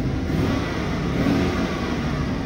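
A car engine revved during an oil pressure check, a loud steady mid-range roar with a slight rise, continuous and close with no talk.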